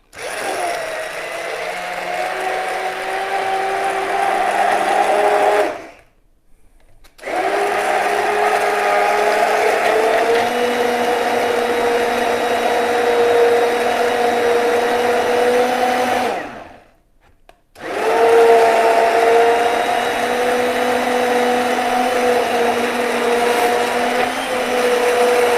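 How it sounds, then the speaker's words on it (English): Hand blender blitzing a lamb curry with spinach in a home kitchen, a loud steady motor whine running in three long bursts separated by two brief pauses, with no talking. "So I've got my hand blender here, and I'm just going to blitz that."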